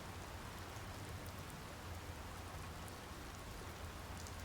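Steady, even rainfall in the Secret Files 2: Puritas Cordis adventure game, a continuous hiss of drops on a surface around a bridge in Paris, constant and close with no voices.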